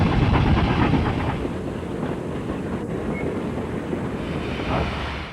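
Baldwin-built 90-ton Mikado steam locomotive, constructed in 1915 as a coal burner, runs at speed on the final stretch into Montague, giving a steady, loud rolling rumble with a faint rhythmic rail clatter throughout.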